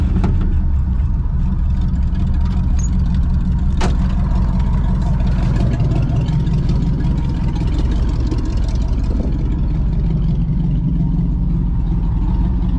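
A 1970 Pontiac Grand Prix with a 455 V8 running steadily close by, a dense, rumbling idle that holds at one level throughout, with no talk over it.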